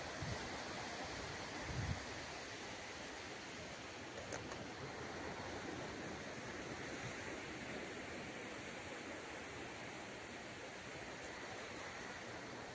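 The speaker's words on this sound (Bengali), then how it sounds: "এখন জলটা বাড়ছে, জোয়ার হচ্ছে।" Sea waves wash in at rising tide on the shore at Digha, a continuous soft roar of surf that stays even and fairly distant throughout, with no voices.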